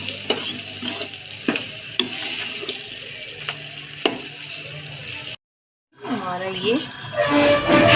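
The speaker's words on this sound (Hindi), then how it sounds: "इसको चलाते रहिए। इसको भून लीजिए अच्छे से, हल्के से सुनहरे कलर का हो जाए।" Peas sizzle steadily in a pan with periodic scraping stirs, close by; a short gap of silence, then a voice speaks over the frying.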